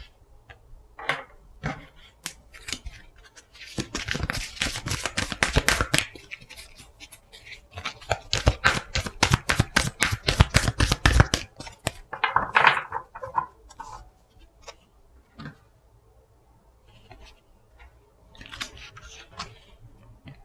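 Tarot cards being shuffled during a reading, shown as loose rustling and flicking that builds into a long riffling rush in the middle and then trails off into scattered soft card taps. No speech is heard.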